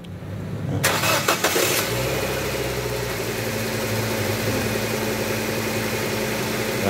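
A Nissan Almera's engine, during a coolant change, cranks briefly with a quick whirring stutter, catches, and settles into a steady, close idle hum that carries on to the end.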